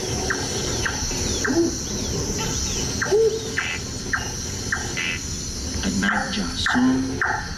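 A dense nighttime chorus of crickets in a Singapore forest trills steadily, joined by scattered chirps and calls from other creatures in the background.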